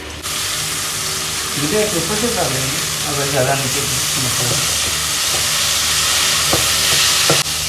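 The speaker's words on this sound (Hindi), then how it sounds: "अब जाएगा इसमें लहसुन अदरक का पेस्ट।" Garlic ginger paste frying in hot oil with a loud, constant sizzle and occasional stirring, while a voice speaks briefly over it.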